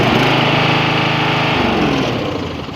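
An 80s Simplicity 5211 lawn tractor engine runs steadily nearby, a loud continuous small-engine drone that shifts pitch slightly partway through and tapers a little at the end.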